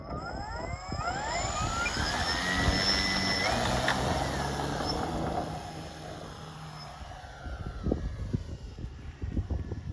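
A Seagull Westland Lysander 12s electric model airplane flies past at a flying field. Its motor whine rises and falls in pitch as it sweeps by at moderate distance, with scattered nearby thumps and rustles.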